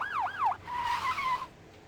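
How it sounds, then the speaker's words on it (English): Police sirens in the video game Vampire: The Masquerade - Bloodlines wail in rising and falling sweeps, then shift to a steadier tone before cutting off, loud and close. "Are those sirens?"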